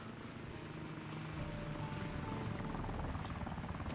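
Aircraft flying nearby in the Arma 2 Wasteland military game, a faint, steady droning engine hum with a low rumble that grows slightly louder and more buzzing toward the end, heard alone.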